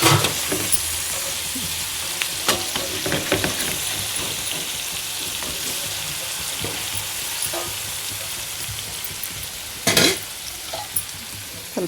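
Food is frying in a pan before being made tandoori: a dense, continuous loud sizzle, close up, with occasional scrapes and clinks and a sharper burst near the end, and no talking.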